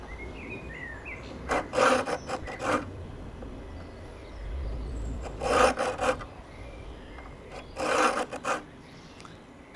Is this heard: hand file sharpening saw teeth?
yes